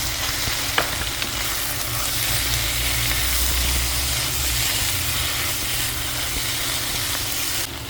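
Pork liver with liver spread and pickles sizzles steadily in a pan for menudo, a loud, even frying hiss throughout with a faint stirring clink near the start.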